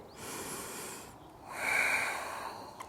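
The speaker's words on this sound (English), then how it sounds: "Breathe in." A single audible inhale through the nose during a yoga flow, soft and close, swelling after a short pause, in a quiet room.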